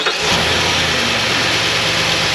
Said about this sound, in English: I'm gonna have Angela start the truck, and we're gonna see how far these batteries drop when we hit the starter